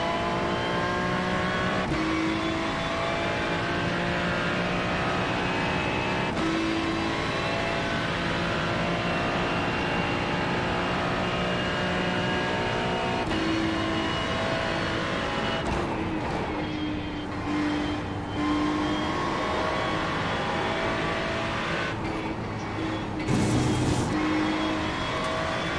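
Ferrari 296 race car in the iRacing sim at Le Mans, its engine droning steadily throughout with gear changes and pitch shifts as it laps, close and loud from the cockpit.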